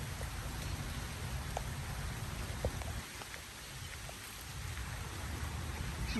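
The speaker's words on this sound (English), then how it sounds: "You guys, it's raining hard." Heavy rain pours down steadily outdoors, a dense continuous hiss with scattered drops hitting surfaces, with no break or voice.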